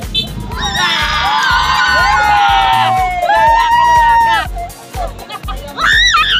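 Villagers in Barangay Dayap shout and cheer loudly together in bursts, with high excited voices and a few screams rising over a busy outdoor crowd, and a host's voice speaking at times.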